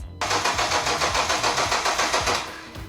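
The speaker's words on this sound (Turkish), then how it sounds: "Şimdi tekrar marş bas." A car's starter motor cranks the engine with a steady, rapid chugging rhythm for about two and a half seconds, close up and loud, with a supercapacitor fitted alongside the battery.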